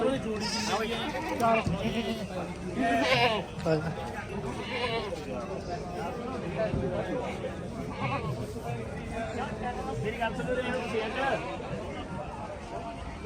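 Goats bleat repeatedly amid a busy crowd at Tungwali goat market, with people talking over one another throughout and the animal calls rising through the chatter.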